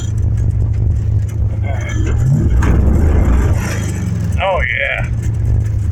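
An old car with a broken power steering pump drives along, its engine rumbling steadily under a man's brief speech, with short squeaky and whining sounds rising over the motor.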